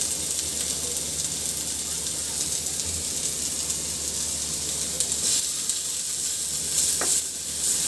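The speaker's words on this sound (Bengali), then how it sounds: "কচু ভর্তাও বানাবো, তার জন্য কচুটা একটু ভাজি করে নিচ্ছি" Taro pieces sizzling in hot oil in a pan, a steady loud bright hiss that carries on throughout, with occasional faint stirring clatter.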